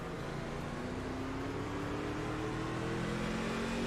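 A race car engine in a racing video game hums steadily at moderate revs, a constant droning tone with faint whining harmonics held evenly throughout, no other sounds over it.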